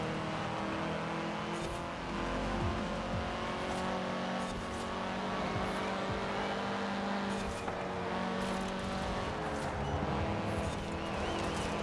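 Loud, continuous Honda car engine roar in the racing game Forza Horizon 4, revving up and down with occasional tire squeal.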